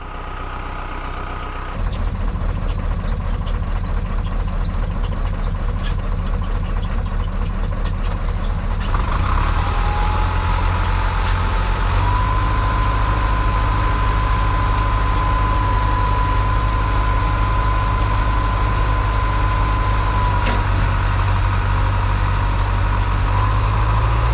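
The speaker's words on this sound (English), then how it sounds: "So the dozer is trying to go in reverse, and I've throttled it up so that the tracks don't slip, but it's pulling quite hard" Bulldozer engine roaring loud and steady as it is throttled up in reverse while pulling hard during farm pond dam work, with the pitch climbing and then holding a sustained drone.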